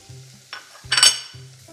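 Chopped asparagus, leek and potato sweat in butter in a pot, with short bursts of soft sizzling and stirring, one louder scrape in the middle and no talking.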